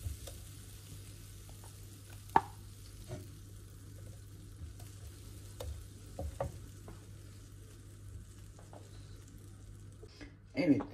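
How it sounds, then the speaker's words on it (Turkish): Butter melting in a pan on a stovetop gives a steady, low sizzle with scattered soft pops and a few sharper clicks of a utensil, fairly close and moderate in level, with no talking. "şimdi tekrar ocağa bir tava koydum ve üzerine içine tereyağı alıyorum. Şöyle tereyağı erisin."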